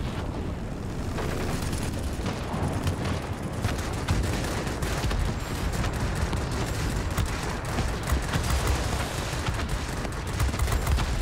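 Dense, continuous gunfire and explosive bursts from enemy planes in the World of Warplanes aerial combat game roar without pause for the whole stretch, loud and chaotic with no talking.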